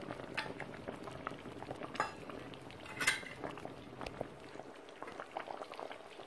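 Yam porridge with palm oil simmers in a pot, a soft continuous bubbling broken by scattered clinks of a spoon or utensil against the pot, fairly close and low in level, with no talk.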